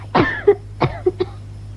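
A woman coughs in a radio play, a short run of three or four close, dry coughs in an uneven rhythm, loud against a quiet background.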